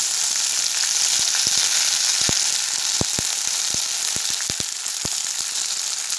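Mint leaves fry in a pan for a mint chutney, a steady bright sizzle filling the clip with scattered sharp clicks and pops from the oil, close and fairly loud, no voices.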